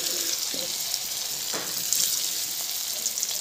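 Cauliflower pieces fry in hot oil in a wok for a Manchurian recipe, giving a steady close hiss and crackle with a few faint scrapes.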